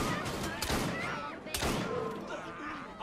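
A gunshot in the Assassin's Creed Syndicate video game: two sharp, loud reports about a second apart over a busy, noisy game mix with background voices.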